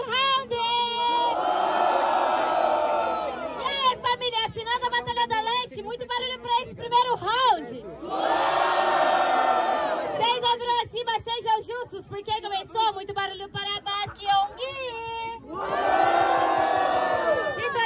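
At a rap battle grand final, a large crowd erupts three times in loud roaring cheers and shouts. Between the bursts, a rapper's amplified voice carries over the room.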